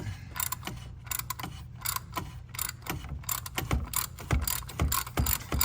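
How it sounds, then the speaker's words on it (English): Rapid ratchet clicking in repeated bursts as a socket wrench breaks loose and unthreads a plastic oil filter cap on a 2017 Chevy Trax 1.4T, close and fairly loud with no talk. "Put your socket on there, just like that. And you want to break it loose, and you want to unthread it."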